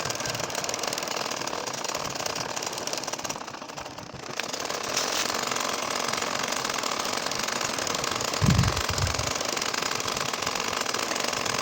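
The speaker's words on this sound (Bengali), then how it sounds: "একইভাবে আমাদের সম্পূর্ণ কাঁথাটা সেলাই করে যেতে হবে" A machine steadily stitches a nakshi kantha quilt, humming in a continuous mechanical drone with a brief dip partway and a low thump near the end; no voices.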